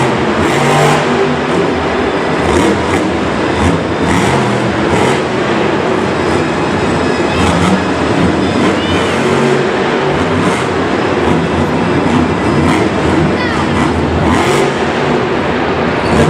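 A Monster Jam monster truck, El Toro Loco, roars and revs continuously at an arena show in Singapore, the loud engine sustained with surging throttle over steady crowd and arena noise throughout.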